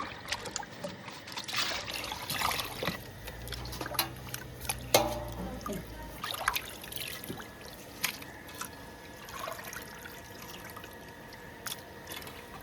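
Raw prawns being washed by hand in water for a village gongura prawn dish: steady trickling, dripping and sloshing with occasional splashes and squishes, close up, with no speech.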